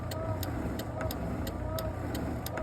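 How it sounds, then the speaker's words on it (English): A Land Rover TD5 wiper motor runs on the bench, its linkage gears sweeping back and forth in a steady repeating rhythm of light clicks over a constant mechanical hum, close by. "the motor's working beautifully. There and there. Gears going back and forth."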